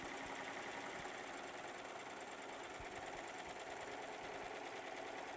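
A serger sewing machine stitching a scrap of test fabric, running as a faint, steady mechanical whir with a continuous rapid patter and no pauses.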